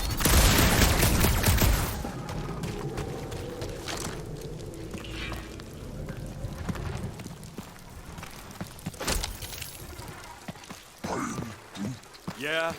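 Bursts of blaster gunfire in the Guardians of the Galaxy video game, a dense loud volley at first, then scattered shots and effects under ongoing character dialogue.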